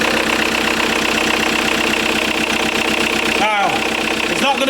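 A smoky, hard-starting diesel car idles loudly and steadily close by, with a brief rev or whine near the end; no speech over it.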